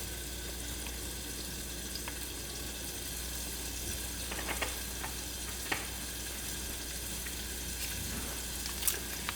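Broccoli sautés in oil and melting butter in a pan, giving a steady, quiet sizzle and hiss throughout, with a few faint clinks and scrapes of stirring.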